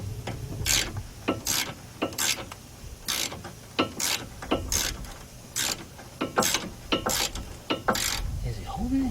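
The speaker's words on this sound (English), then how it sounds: "Get my 3/8 drive ratchet." 3/8 drive ratchet working a strut nut on a 2008 Ford Fusion, bursts of sharp rasping clicks repeated in a rough rhythm about a dozen times, close and fairly loud, with a workshop hum between strokes.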